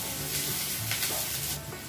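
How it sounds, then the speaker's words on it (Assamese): Ginger and green chillies fry with onions in hot oil in a pan, giving a soft, continuous sizzle with light crackling and occasional stirring scrapes, heard close and without speech. "আদা আৰু জলকীয়াখিনিও দি লৈছোঁ"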